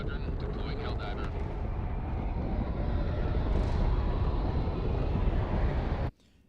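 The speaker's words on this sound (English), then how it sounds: "Allied destroyer joining squadron, deploying Helldiver." Deployment of a Helldiver aircraft in a video game plays as a steady engine drone and rushing roar that swells slightly midway, then cuts off abruptly near the end, with a player talking over it.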